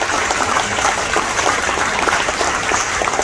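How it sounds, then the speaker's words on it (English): Crowd applause at a fishing tournament weigh-in in Galveston, Texas: dense, steady clapping from many hands, fairly close and loud, holding evenly for a few seconds. "Give them a big round of applause."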